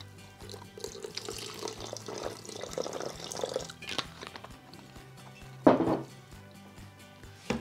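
A little water trickles and splashes into a vegan pumpkin seed spread being prepared in a kitchen, a faint, close pour with a few louder drips toward the end.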